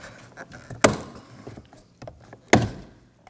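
A plastic trim tool prying under the rear door handle of a 2007-2013 BMW X5, with two sharp, hard clunks well apart and light fumbling and small clicks between them.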